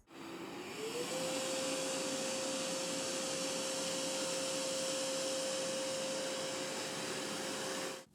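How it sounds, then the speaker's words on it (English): Narwal Freo X Ultra robot vacuum running at its highest suction setting, a steady loud whirring roar with a constant high motor whine that rises in pitch during the first second, then holds unbroken. "Here's what it sounds like on the highest suction power."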